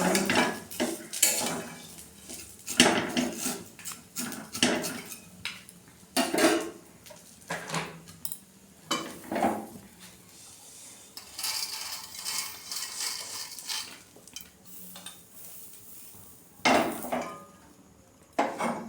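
Vermicelli is stirred lightly in ghee in a kadai for nolen gur simui, heard as irregular clinks, knocks and scrapes of a spoon against the pan, fairly close with quiet pauses.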